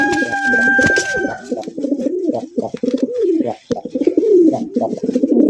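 A large high-flying Giribaz pigeon calls close by with repeated throaty, rolling coos in a steady rhythm, loud and alone.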